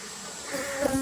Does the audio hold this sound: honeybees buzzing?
yes